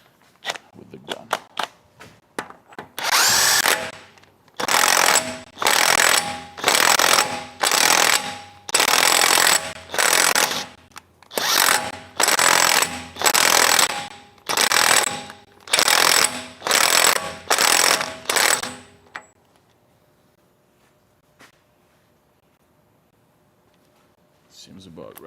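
Impact gun tightening a wheel bearing nut during off-road repairs: a long series of loud, even hammering bursts, about a dozen in quick succession, then quiet with faint ambient hum.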